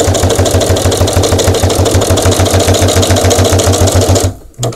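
A Janome Skyline S5 sewing machine stitches leather with the presser foot raised high, giving a loud, steady, fast mechanical hum and rapid even thumping that runs continuously, then stops abruptly near the end with a brief low clunk.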